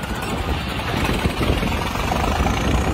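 A Swaraj 52 tractor engine idles nearby, a loud, steady low rumble with a broadband mechanical chug that holds constant throughout, with no talking over it.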